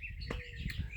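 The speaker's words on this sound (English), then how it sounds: "You hear the birds chirping in the back." Birds chirping outdoors in the background, short bright tweets repeating over a low steady ambient hum, fairly faint and with no speech.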